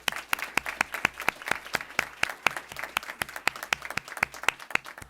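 A small group claps for a new student board member at a school board of education meeting, giving sparse, distinct individual claps in a quiet room, close and fairly soft, with no talking.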